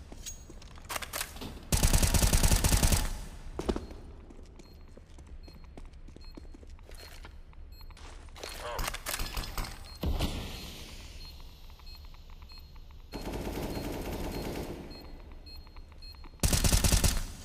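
Bursts of gunfire from Counter-Strike: Global Offensive gameplay, several loud broadband volleys spaced through the clip between quieter in-game sounds.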